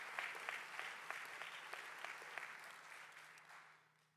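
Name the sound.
audience applause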